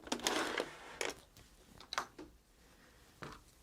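A domestic sewing machine runs a back stitch along the seam of a fabric scrunchie made from scraps, heard as quiet short bursts of whirring separated by pauses.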